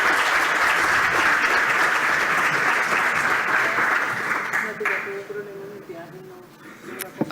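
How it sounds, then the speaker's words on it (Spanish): Audience at a peace-building event applauding an honoured victim, a loud dense round of clapping that holds steady, then thins and fades out near the end with a few scattered claps. "Fuerte aplauso para ella, por favor."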